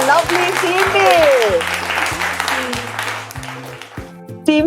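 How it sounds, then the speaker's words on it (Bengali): A studio audience applauds a mother-and-daughter team on a family game show at a jewellery store, the clapping running loud and steady under a host's voice and background music. "একটা জোরে হাততালি"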